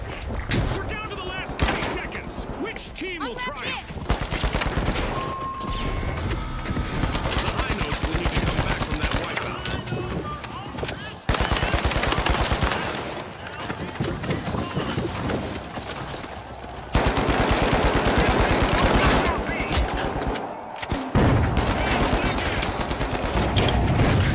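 Rapid AK rifle fire in the shooter game The Finals, repeated bursts of loud sharp shots with short pauses between volleys over game sounds and footsteps, lasting throughout.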